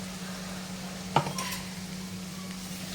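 Ground garlic and coconut paste being stirred and roasted in a pan with red chilli powder, a faint background sizzle with one sharp scrape of a spoon partway through.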